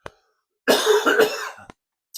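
A single harsh, raspy cough up close, preceded and followed by faint clicks, with quiet around it.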